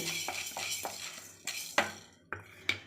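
A spoon scraping and clinking against a pan as urad dal and fenugreek seeds are dry-roasted, a few distinct knocks and scrapes spaced apart, close and fairly clear, with no talking.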